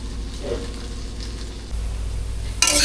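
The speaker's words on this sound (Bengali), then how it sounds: "চাউমিনটা ফ্রাই হয়ে গেছে" Chow mein frying in a pan on a rooftop in winter gives a steady broadband sizzle that grows louder partway through, then flares into a bright hiss near the end.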